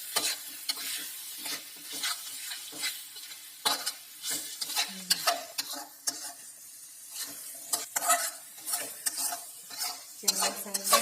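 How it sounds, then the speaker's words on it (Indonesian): Spice paste with lemongrass stir-fried for beef rendang in a mosque kitchen, a close, steady sizzle broken by repeated scraping and stirring strokes of a utensil against the pan, with no talk. "Kita tumis terus biar baunya benar-benar enak ya."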